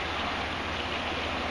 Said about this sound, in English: they crack it open a little bit and allow the water to flood in along the corners and the sides